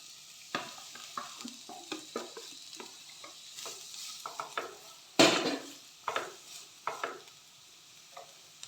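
Sliced onion sautéed in a pan, soft frying sizzle beneath repeated scraping and knocking of a spoon or spatula against the pan, a sharp clatter in the middle, close and fairly quiet.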